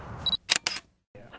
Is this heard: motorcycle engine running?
no